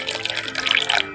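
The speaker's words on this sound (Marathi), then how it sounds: "आपण थोडं थोडं पाणी करत घालून मिक्स करायचं" Water splashes and trickles steadily into a bowl of rava idli batter for about a second, close and fairly loud, with no talking.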